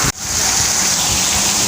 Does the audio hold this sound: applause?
no